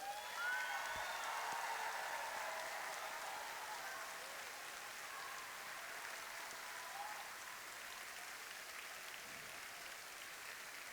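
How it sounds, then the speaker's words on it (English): Sustained audience applause fills a hall at a robotics championship awards ceremony, an even, moderately loud rush of clapping with a few faint calls over it. "Let's give them a big round of applause for their dedicated hard work."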